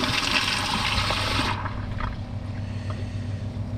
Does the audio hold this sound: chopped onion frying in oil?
no